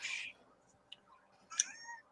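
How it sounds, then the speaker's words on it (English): A pet cat meows indoors, with a loud meow at the start and a second drawn-out meow near the end, separated by a brief faint sound in a quiet room. "I'm sorry if you can hear the cat"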